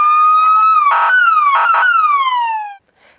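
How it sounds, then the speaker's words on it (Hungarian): Police car siren switched on by children during a police open day: one loud, close wailing tone gliding downward, cut by a few short harsh blasts, then abruptly falling silent. "A nyílt nap végén a gyerekek beülhettek a rendőrautóba, és kipróbálhatták a szirénát is."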